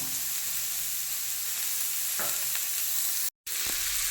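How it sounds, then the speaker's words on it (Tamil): Sautéed masala with eggs fries in a pan under a loud, continuous sizzle, with a few stirring scrapes, a brief near-silent dropout, then the hiss resumes. "இப்போ அந்த மசாலா எல்லாமே நம்ம இதில் கலந்துட்டோம்"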